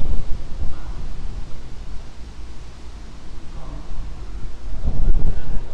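Strong wind blowing outdoors buffets the microphone in a steady, loud low roar, with gusts rising and falling and growing stronger near the end.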